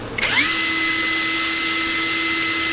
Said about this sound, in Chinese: 这个旧款的电池盒就是搭配这一个起子机的